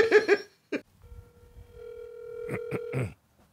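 A telephone line gives a long steady tone of about two seconds while a call is placed, fairly quiet, with brief bursts of talk and laughter before it and after it.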